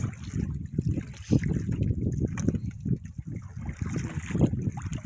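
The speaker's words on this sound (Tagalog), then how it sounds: "Yung agos ng tubig guys." Water current flowing and trickling past a crab net set at a crab hole, a steady close wash of moving water with dense low churning throughout.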